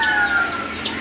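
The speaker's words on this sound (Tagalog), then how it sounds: "mga alaga naming manok" Pet chickens in a rural yard in Southern Leyte on an overcast, rainy day, heard in a brief burst of clucking and bird calls at moderate distance.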